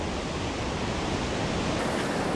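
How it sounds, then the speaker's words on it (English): Rhaeadr Nantcol waterfall swollen after heavy rain, a steady broadband roar of rushing water that stays constant and loud throughout, with no voices. "you can't get a good vantage point from this side to really show the power of this waterfall"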